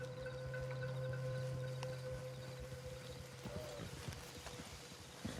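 Horse hooves clip-clopping at a slow walk in Red Dead Redemption II, a steady rhythmic clatter that grows more distinct toward the end over a faint ambient hum.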